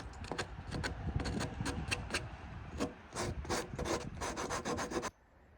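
A wooden handle is rubbed by hand with 120 grit sandpaper in quick, steady back-and-forth strokes, close and fairly soft, stopping abruptly near the end.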